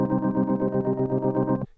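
A tempo-synced stutter effect on the REV software instrument chops a sustained tonal pad into rapid, evenly timed pulses for about a second and a half, then cuts off abruptly. The chopping is loud and clear, with no voice over it.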